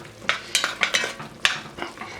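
Marsala wine going into a pan of softened mushrooms being cooked for cream of mushroom soup, with a spoon scraping and knocking against the pan in several sharp, uneven strokes over a soft sizzle, close and clear.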